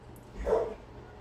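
A single faint dog bark sounds at a distance, brief and muffled against a quiet room background.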